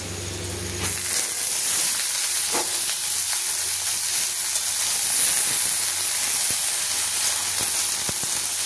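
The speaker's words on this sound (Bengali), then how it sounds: "এবার দিয়ে দেবো কেটে রাখা ঝিঙে" Chopped ridge gourd tipped into a pan of browned fried onions sizzles loudly and steadily, with occasional scraping and clinking as it is stirred, and no talking.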